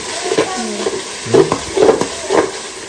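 Egg rice being mashed and stirred in a pan over a gas flame, with a few scraping strokes and a soft sizzle running underneath, close by and moderately loud.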